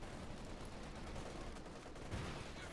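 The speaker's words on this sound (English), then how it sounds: "MG34 tearing into the rifle" Gunfire from an MG34 machine gun in the strategy game Company of Heroes 2, a dense continuous battle din of rattling shots with a louder burst near the end, no talk heard.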